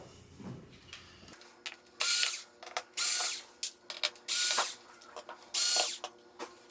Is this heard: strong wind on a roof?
no